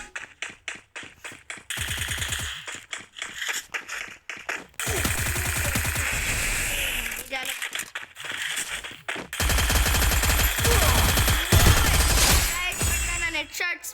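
Rapid bursts of automatic gunfire and single shots from the mobile battle game Free Fire, dense and loud throughout, with spells of heavy continuous firing and game effects layered over them.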